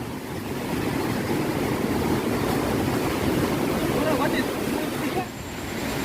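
Big sea waves crashing below, a broad continuous roar of surf with wind buffeting the microphone, loud and steady, easing slightly near the end.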